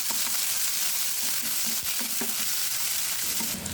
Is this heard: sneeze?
no